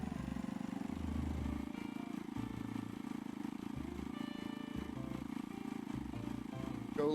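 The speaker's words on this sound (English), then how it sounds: "Go, little moped, go." A small moped engine drones steadily in a video game, a close, even mid-pitched hum with slight rises and pulsing low throbs, running without pause.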